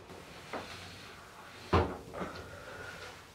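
Closet doors in a bedroom swing shut, with a light knock early on, then a sharp louder bang as a door catches, followed by a softer rattle and creak.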